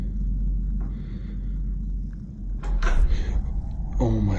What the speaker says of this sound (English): I've been like hearing fucking knocking sounds